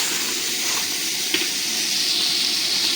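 Spices fry in a pan for Bengali khichuri, with a steady close hiss and sizzle throughout and a faint clink partway through.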